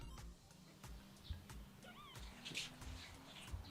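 A tiny kitten from a litter gives several short, high meows, fairly close and alone against a quiet room with low background hum.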